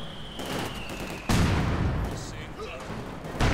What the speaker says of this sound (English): Calling in the artillery power on this.